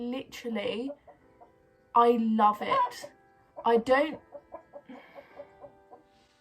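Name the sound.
chickens clucking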